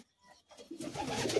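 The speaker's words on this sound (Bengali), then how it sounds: "এটা আরশাদ লাইনের পায়রা" Old-bloodline Madrasi pigeons of the Arshad line coo softly, a brief low murmur that swells toward the end, faint and close with no talk.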